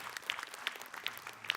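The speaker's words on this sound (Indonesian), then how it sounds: "Tepuk tangan Ustadz Maulana." Light applause from an Islamic lecture audience, a patter of claps with a few sharper ones standing out at regular intervals, fairly quiet and brief.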